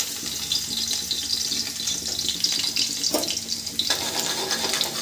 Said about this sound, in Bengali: রসুনটাকে হালকা ভেজে নেবেন, বেশি ভাজতে হবে না